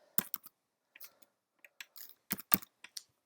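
Short burst of typing on a computer keyboard, a few close clicky keystrokes in quick clusters separated by brief silences, with no talk.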